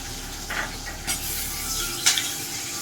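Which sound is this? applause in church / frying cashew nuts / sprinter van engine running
frying cashew nuts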